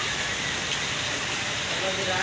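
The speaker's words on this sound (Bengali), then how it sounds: "বাইরে প্রচুর বৃষ্টি হচ্ছে।" Heavy rain falls steadily outside a poultry farm shed, a dense continuous hiss with no break across the short stretch, fairly close and even in loudness.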